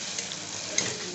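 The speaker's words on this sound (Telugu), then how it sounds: "ఇవి కొద్దిగా వేగనిద్దాం. బాగా వేగాలి ఇవి ఆనియన్స్." Onions frying in a pan for tomato rice, a steady soft sizzle with faint clicks from stirring, brief and close with no talking.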